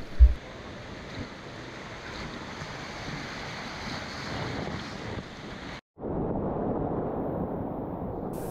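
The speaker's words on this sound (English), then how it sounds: "we were back on the river heading for more rapids" White-water rapids rush around a raft on a river, a broad continuous roar of churning water with wind buffeting. It cuts out briefly near the end and then resumes, slightly softer.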